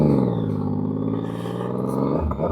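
A car passes close by on the road, a loud engine roar with a rising and falling pitch that stays strong for a couple of seconds before easing off slightly at the end.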